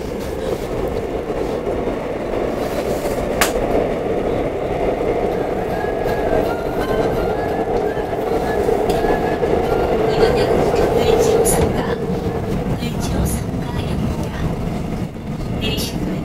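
Subway train running, heard from inside the carriage on a rainy day: a continuous loud rumble with rattles and faint squeals throughout, clattering near the end.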